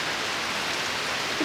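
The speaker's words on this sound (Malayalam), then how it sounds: "ഇന്ന് പെരും മഴയാണ് ഇവിടെ." A heavy downpour during flooding makes a dense, continuous roar that stays loud and even throughout, with no voices.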